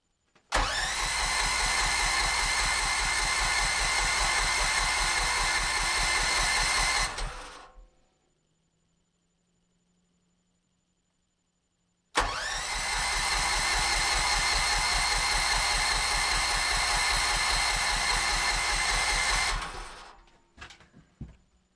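A generator engine cranks over and over in bitter cold without catching, a loud, close, rapid mechanical churning that runs about seven seconds, stops for a silent pause, then grinds again for another long stretch before cutting out.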